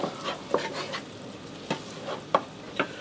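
Beef sizzles and fries in a pan for cheesy beef sandwiches, a steady close crackle with several sharp clinks of a utensil stirring against the pan.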